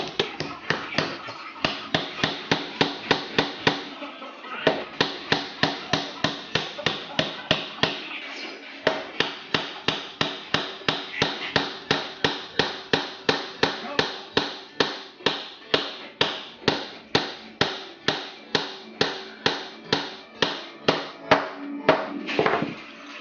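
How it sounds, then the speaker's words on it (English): A hammer drives a tapered wooden dowel, just under 3/8 inch, through a dowel plate at a workbench, giving a long steady run of sharp, evenly spaced close-up blows, roughly two per second, heard alone. "and just using a hammer."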